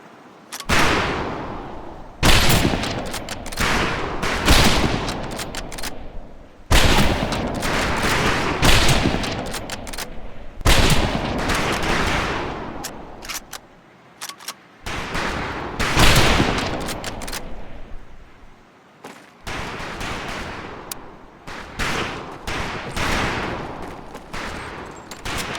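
A rifle volley at a firing range in Medal of Honor: Pacific Assault: repeated loud clusters of overlapping rifle shots, each burst followed by a short pause, continuing in uneven waves throughout.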